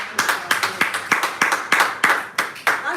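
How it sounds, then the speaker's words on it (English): An audience at a Toastmasters meeting clapping together in steady, evenly spaced claps, loud and close, with nothing else heard. "A round of applause."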